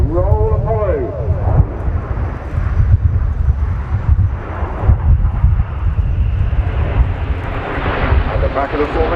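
Royal Air Force Red Arrows jets in a flying display at RIAT 2019 roar overhead, loud and sustained with rising and falling engine tone, while a commentator speaks over the noise.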